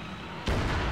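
A sudden deep explosion erupts in the military shooter Arma 3, a heavy low boom that cuts in midway through steady background game noise and rumbles on to the end.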